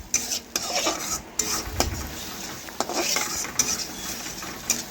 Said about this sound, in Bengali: সরষে বাটা একটু ভেজে নিচ্ছি।